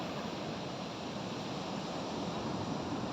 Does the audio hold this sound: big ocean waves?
yes